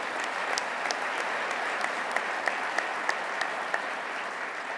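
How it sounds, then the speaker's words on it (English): Audience at a New York regional economic development awards ceremony breaks into sustained applause, a dense wash of clapping with sharper individual claps standing out throughout. "Give her a round of applause"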